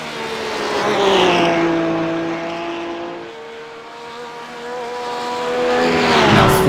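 A race car in the iRacing simulator runs flat out over a track's inside curb, its engine a loud sustained whine that rises and falls with gear and throttle changes, and no talk over it.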